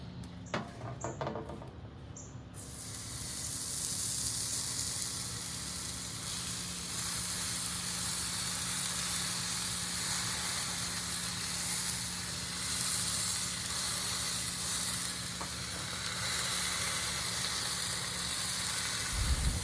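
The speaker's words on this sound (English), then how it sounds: "Now we're just gonna sear that on that hot plate." Beef tri tip searing on a kamado griddle at about 500 degrees Fahrenheit, a loud, steady sizzle and hiss that starts suddenly after a few seconds of handling noise and holds constant to the end.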